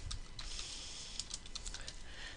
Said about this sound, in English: we are going to type Reports